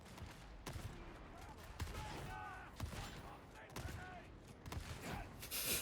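Shotgun blasts from an Arbitrator build in the Warhammer 40,000: Darktide video game, several sharp bursts spaced every second or so in busy combat, with someone talking over them.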